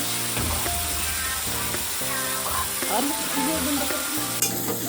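A spicy homemade chilli masala sautés in hot oil, sizzling loudly and steadily while a utensil stirs and scrapes through it. The sound is close and fills the whole stretch.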